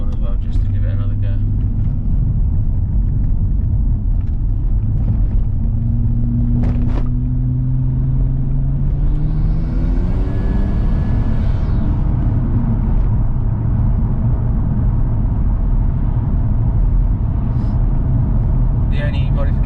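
Nissan Stagea with an RB25 engine, air filter and straight-pipe back box delete, driving steadily with a continuous low engine drone that rises in pitch through a gear as it accelerates, loud and close throughout.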